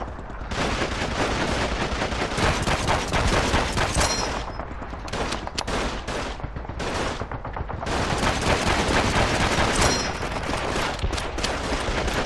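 Dense, sustained gunfire in the Call of Duty 2 Operation Husky mission, a loud continuous fusillade of rapid overlapping shots that eases briefly around the middle before picking up again.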